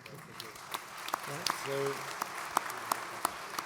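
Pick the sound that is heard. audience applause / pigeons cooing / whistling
audience applause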